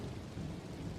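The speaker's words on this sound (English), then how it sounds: "The rain is a soft and steady curtain of sound for your mind." Steady rain falls in an even, unbroken wash of sound, soft and continuous with a low rumble beneath and no voices.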